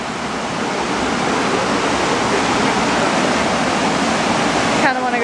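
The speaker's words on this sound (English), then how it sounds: "That is a beautiful waterfall." A waterfall pours with a steady, full rushing roar that holds at an even level throughout, and a short voice cuts in at the very end.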